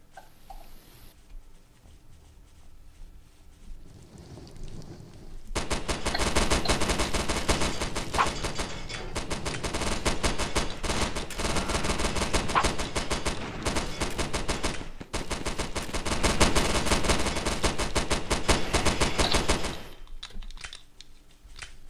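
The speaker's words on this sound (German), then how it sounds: "das Maschinengewehr ist überall auf Maximum" Machine gun fire in the video game Primal Fears comes as long, dense, rapid bursts, loud and sustained for about fifteen seconds with a short break midway, and no talk over it.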